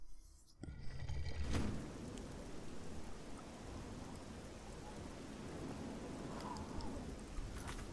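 Steady rain falls in the fantasy video game Oblivion, a constant hiss of rainfall that starts abruptly, with a brief sharper burst early on and occasional faint clicks over the wash.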